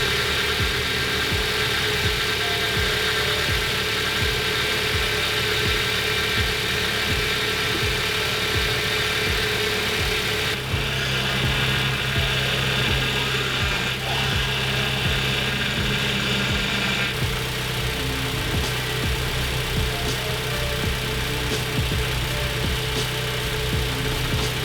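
A Mazda NC Miata engine idles steadily and alone, a continuous low hum with faint vibration, the car stationary while power steering fluid is bled, the tone shifting slightly partway through as the wheels are turned.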